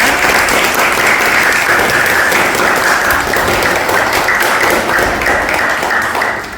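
A round of applause from an audience at a talk in Portuguese, dense steady clapping filling the whole stretch at close range and holding loud until a slight fade at the end.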